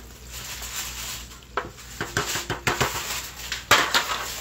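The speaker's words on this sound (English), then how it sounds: "this was one box of pasta that I'm just gonna dump in here" Dry elbow macaroni from a cardboard box pours into a crockpot, starting with a soft rustle and building into a run of sharp clattering, rattling hits as the pasta lands, close and fairly loud.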